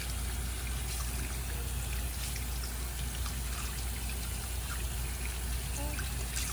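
Hands are rinsed under a steady stream of running tap water, a continuous close splashing and trickling wash with no talking.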